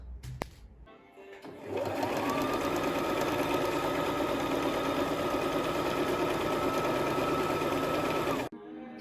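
A sewing machine runs a zigzag overcast stitch on cotton pieces, starting after a few clicks, then humming and rattling steadily and close for about seven seconds before stopping abruptly.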